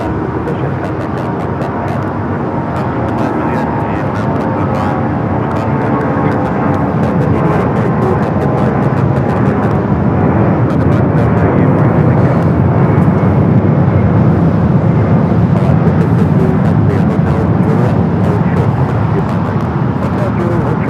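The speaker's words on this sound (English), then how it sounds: "We have a takeoff here. Delta 757-200 headed out to Phoenix." A Delta Boeing 757-200 bound for Phoenix takes off from LAX with a heavy, steady engine roar that swells gradually over twenty seconds, nearby and dominant, with faint talk and clicks mixed in.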